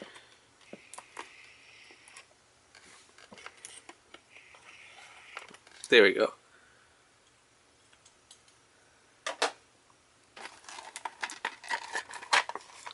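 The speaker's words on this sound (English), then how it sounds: "we'll just cut this little plastic open here." Small plastic blister packaging on a Power Rangers Super Megaforce Legendary Ranger Key pack is cut open, giving a loud crisp crinkle and snip burst midway, with scattered ticks and rustles around it and brief talk.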